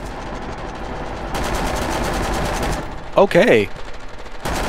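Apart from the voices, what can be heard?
gunfire in video game SCP: Pandemic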